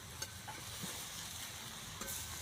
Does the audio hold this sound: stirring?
yes